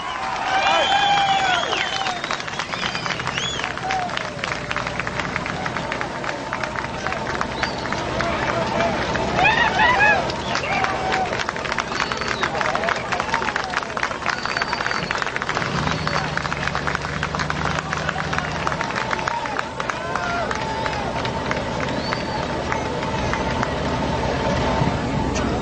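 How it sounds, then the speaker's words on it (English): A large crowd cheers and chatters in a dense, continuous roar, with whoops and shouts rising over the din, loud and sustained throughout. "I'm beginning to hear a cheer or two now."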